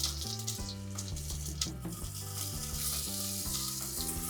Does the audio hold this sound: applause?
no